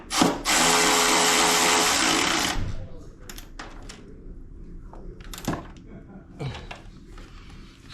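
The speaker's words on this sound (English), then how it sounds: "then I tighten the front bolts. Get my trusty 1/4" drive Milwaukee." A Milwaukee 1/4-inch drive power tool whirs loudly for about two seconds while tightening fuel tank bolts on a Harley-Davidson Pan America, followed by quieter clicks and handling sounds nearby.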